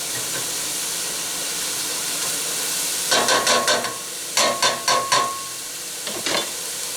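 Vegetables sauté in a pot for red beans with andouille sausage, a constant hissing steam underneath, then a run of sharp, rhythmic scraping and clinking strokes as they are stirred, close up.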